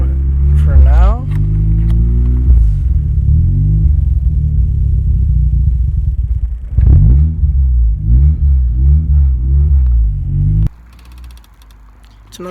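A cold Mazda RX-7 rotary engine idles roughly, loud and close, with a lumpy, uneven rumble that surges and sags before dropping off near the end, with a voice speaking over it.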